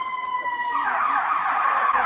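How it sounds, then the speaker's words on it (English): An ambulance siren wails steadily at a public scene, starting as a clear tone then swelling into a louder, rising and falling sweep as the emergency vehicle arrives close by. "So the ambulance is here."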